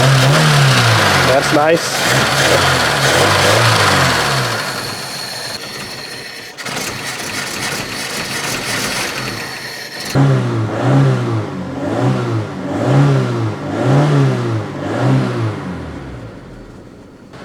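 An Opel Ascona engine with a missing air filter, running on old mixed fuel, revs repeatedly in rhythmic bursts, loud and close, with brief talk over it.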